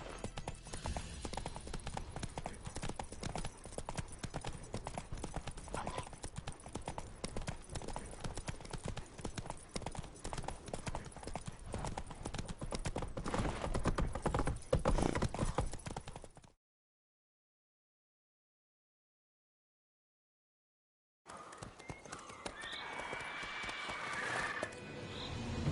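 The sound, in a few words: horse galloping in the video game The Witcher 3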